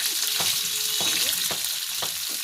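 Fish sizzles steadily in hot mustard oil in a village kitchen, a constant bright hiss broken by a few sharp utensil knocks at regular intervals, close and fairly loud with no talking.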